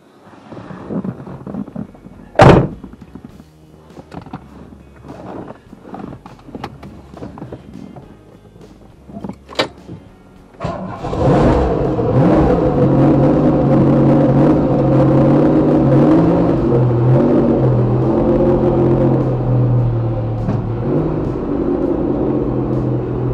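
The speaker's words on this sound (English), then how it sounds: "First drive round the block." A turbocharged 400 hp Pontiac Fiero cranks and fires up about halfway through, then holds a loud, steady engine drone with shifting tone as it pulls away on a first drive around the block, after scattered clanks and bumps beforehand.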